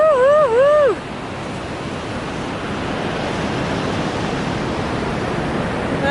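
A river on the Pacific Crest Trail forced through a narrow channel roars in a loud, steady broadband rush that fills the clip, after a brief warbling whistle at the start.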